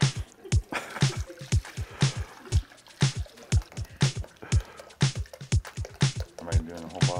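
White wine poured from a bottle for a white grape spritzer: rhythmic, close glugs and liquid splashes that repeat steadily, with people talking over them.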